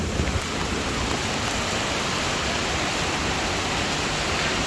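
Heavy rain pours down in a steady, dense roar that never lets up, loud and close all the way through, at a resort construction site.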